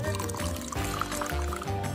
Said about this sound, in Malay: ni kena tuang banyak mana air dia?